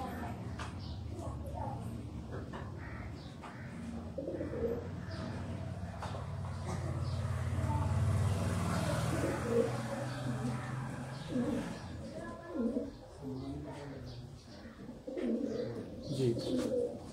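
Sialkoti pigeons coo in low, soft, repeated murmurs close by, overlapping one another, with a person talking intermittently through the flock's steady background.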